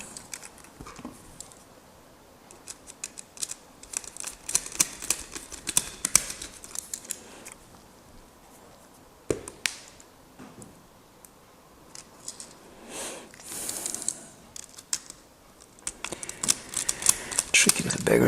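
Small screws being driven back into the casing of a 280Hz NSD Powerball gyroscope, close up, with scattered tiny clicks, ticks and scrapes coming in irregular bursts.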